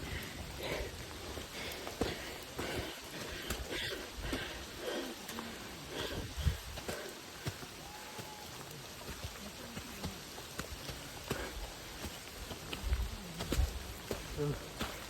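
Steady rain patters all around, with scattered drips and faint footsteps and distant voices underneath.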